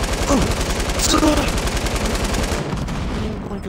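Rapid automatic gunfire in the Fortnite video game, shots at a cop, fires in a dense, fast, continuous burst up close for a few seconds.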